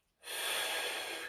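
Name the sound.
deep breath in during stretching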